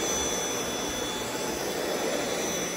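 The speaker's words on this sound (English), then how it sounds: "Dyson V8, it's great." A Dyson V8 cordless vacuum cleaner runs steadily in a home, just after a toy room was vacuumed, giving a loud, continuous whooshing motor roar with no talking.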